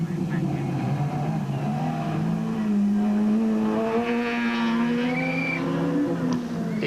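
A Toyota RunX rally car at the 2009 Sasol Rally races across a slippery stage, its loud engine climbing steadily in pitch through the gears with tyre scrabble and skidding, the sound continuous and close throughout.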